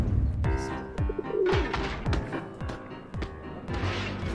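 Pigeon cooing in the video game Pigeon Simulator, soft repeated coos mixed with light thumps and chirps over a steady game background, with no talk.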